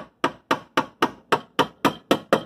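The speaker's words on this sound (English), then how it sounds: "Kind of start pounding everything back. You don't need a sledgehammer or anything like that, just a small hammer." Small hammer pounding a dented car body panel in a backyard, nine sharp metallic blows at an even, steady rhythm about twice per second, close and loud with no talking.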